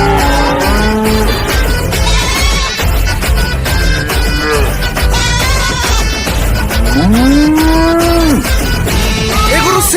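Cattle at a busy cattle market give repeated loud moos, some long and drawn out, over a constant crowded background din.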